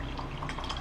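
Water pours from a tap or jug into a blender with okra, a continuous close splashing and gurgling trickle with no speech over it.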